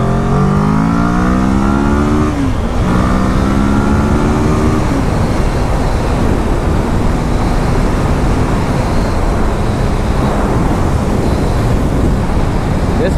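A 2015 Kawasaki Ninja 650R engine roars while riding, loud and close, pitch sweeping up through the gears under heavy wind rush, then a steady drone.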